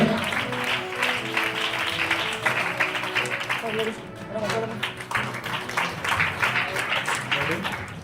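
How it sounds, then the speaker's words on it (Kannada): Sustained applause from a crowd at a lamp-lighting ceremony during a solar-light and goat distribution event for transgender people, dense steady clapping at a moderate level with voices mixed in. "ಜೋರಾದ ಚಪ್ಪಾಳೆಯೊಂದಿಗೆ ದೀಪ ಬೆಳಗಿಸಿದಂತಹ ಆಗುತ್ತದೆ."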